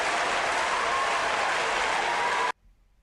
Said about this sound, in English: We can't have a recording artist out here without no applause.